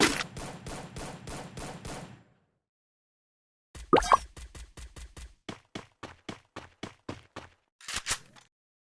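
Bursts of rapid gunfire from the Free Fire video game, one volley of about seven shots, a pause, then a longer string of spaced shots and a final louder burst, crisp and close.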